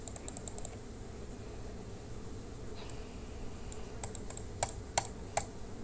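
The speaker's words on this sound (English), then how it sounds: "Sorry, I just like clicking this mouse." Computer mouse clicked repeatedly in short bursts: a cluster of sharp clicks near the start, then a scattered run of crisp clicks toward the end, close and alone over a low steady room hum.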